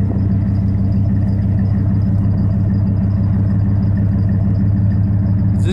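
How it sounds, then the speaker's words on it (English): A 2003 Dodge Ram 1500 Hemi pickup idles close by, its exhaust giving a loud, deep, steady rumble with a fine, even pulsing beat that holds constant throughout. "Sound of the exhaust."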